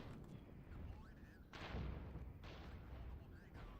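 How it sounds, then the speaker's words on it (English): Cluster artillery strike in the military strategy game Regiments: a series of distant booming impacts, one heavier blast standing out among rumbling explosions, amid battlefield noise with faint chirps. "we're gonna call in cluster artillery"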